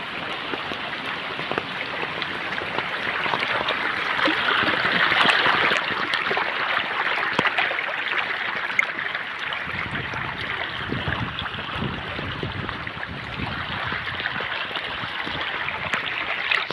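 Floodwater after heavy rain surges over flooded rice paddy fields, a steady, loud rushing wash with a deeper churning swell partway through and no voices.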